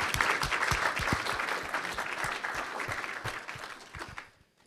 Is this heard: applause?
yes